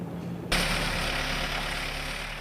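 A salt truck's engine starts up abruptly and runs at a steady, loud idle, a low rumble with broad hiss close by, no voices.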